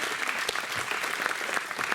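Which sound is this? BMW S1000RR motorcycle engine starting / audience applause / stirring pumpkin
audience applause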